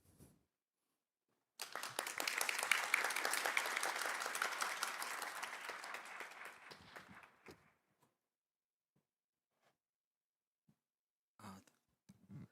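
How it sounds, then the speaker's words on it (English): Audience applause at a legal convention in Seoul, a dense burst of clapping that swells quickly, holds for several seconds and fades out, followed by near silence with a few faint stray sounds. "please, give him the round of applause"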